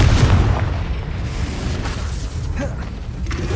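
A Confringo fire spell in Hogwarts Legacy lands as a deep, booming blast up close, then settles into a rumbling roar of debris and effects that carries on steadily afterward.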